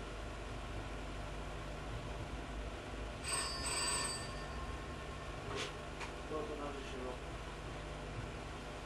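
A telephone rings indoors with a couple of short electronic bursts midway, fairly faint under a steady noisy background hum, followed by a few brief clicks.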